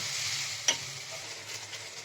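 Spices frying with a splash of water in a nonstick kadai, a soft steady sizzle broken by one sharp utensil tap, close and quiet with no speech.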